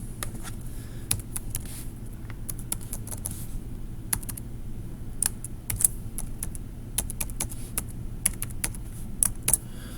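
Password typed on a computer keyboard: scattered crisp key clicks in short irregular bursts over a low steady room hum, close and moderately quiet, with no talk.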